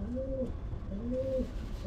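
Pigeons in a breeding loft give two clear, drawn-out coos, close by over a low, steady background hum.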